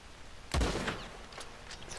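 A single sharp gunshot is fired at an elk while hunting in the video game Red Dead Redemption 2: one loud, abrupt crack that fades into a short rumbling tail, followed by faint ambient game sound.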